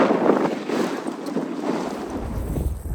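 Strong wind buffets the microphone on the open Shetland Islands coast, a loud, continuous roaring rush that swells and dips without pause.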